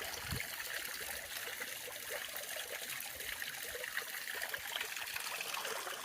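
A steady trickle of hot spring water flows and hisses close by, continuous and fairly quiet, with no voices.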